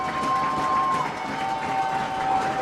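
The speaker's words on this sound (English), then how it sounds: "Mill Valley crowd makes some noise, immediate pressure." A Mill Valley crowd at a high school football game makes a steady roar of cheering and noise, with a whistle-like tone threading through and a commentator talking over it.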